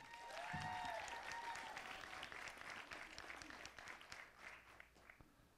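A conference audience at a women's real estate panel applauds for Kristin Green-Vogt, a dense, even wash of clapping that holds strong, then thins and tapers over about five seconds.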